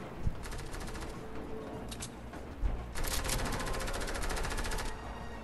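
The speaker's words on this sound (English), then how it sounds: "Someone's shooting." Automatic gunfire in the Fortnite video game, rapid rattling bursts of shots at close range with a short pause between a first volley and a longer, louder second burst.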